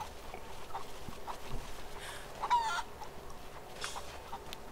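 Chickens clucking in the video game Rise of the Tomb Raider, faint scattered clucks and a brief louder squawk midway over quiet ambient game sound, with no talking.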